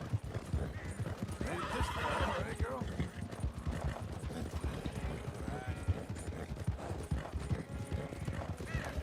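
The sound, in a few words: horses running in a video game time trial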